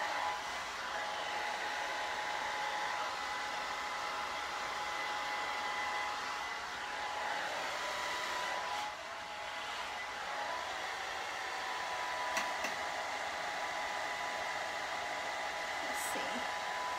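A hair dryer with a diffuser blows steadily on curly hair, a constant close whooshing hum with a faint tonal whine that barely shifts throughout.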